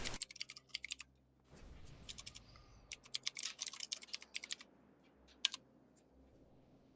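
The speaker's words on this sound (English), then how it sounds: "We hear all your clicking." Bursts of rapid keyboard typing and clicking, fairly close, picked up over voice chat during an online game raid, coming in clusters with short pauses between them and a low hum beneath.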